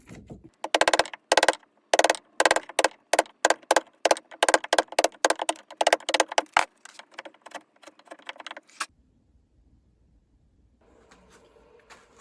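Steel chisel struck repeatedly against a wooden jig to chop a 45-degree mortise in wood for a farmhouse table; a rapid series of sharp, loud, close taps and cracks, then quiet with faint shop noise.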